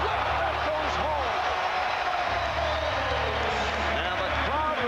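Crowd at an NBA All-Star basketball game in an arena roars in response to Michael Jordan's flip shot, a broad continuous cheer with a commentator talking over it.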